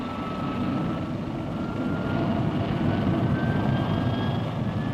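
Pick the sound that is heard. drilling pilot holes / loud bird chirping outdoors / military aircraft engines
military aircraft engines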